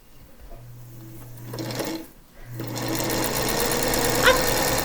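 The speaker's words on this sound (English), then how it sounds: "we're going to sew it a scant quarter" A sewing machine stitching quilt pieces together with a scant quarter-inch seam: a steady mechanical whir that starts, pauses briefly, then resumes at a faster and louder pace, close up.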